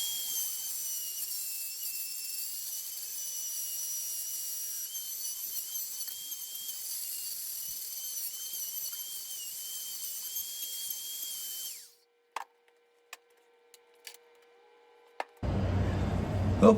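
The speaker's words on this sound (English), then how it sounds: "Then all I have to do is just route away all this" A router cuts out the neck tenon of an acoustic guitar with a steady, high-pitched motor whine for about twelve seconds. It then stops abruptly, followed by a few sharp clicks and a brief burst of louder noise at the end.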